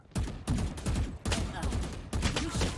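Rapid automatic gunfire in the tactical shooter Valorant, four close, loud bursts of fast shots separated by brief pauses, delivered at a quick, steady rhythm.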